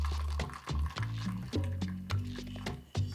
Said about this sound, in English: we are going to pour it into the 10-pin Pilsner glass